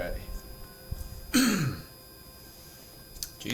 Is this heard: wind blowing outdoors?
no